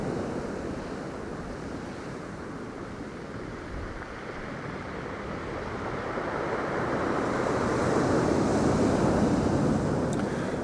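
Big waves break and wash along Hornsea beach in a steady roar, building into a louder surge in the second half, with wind noise over the microphone.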